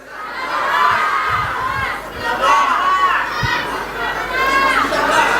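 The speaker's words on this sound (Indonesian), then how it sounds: "Kalau semua teriak saya nggak bisa dengar." A large crowd at an Indonesian dam inauguration shouts answers in unison, with loud, close bursts of many voices, including children's, rising and falling in waves.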